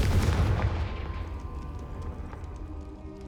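A Confringo fire blast spell in Hogwarts Legacy on PS5 Pro: one heavy, booming burst that hits loud at once and then rumbles and fades slowly, with no voices.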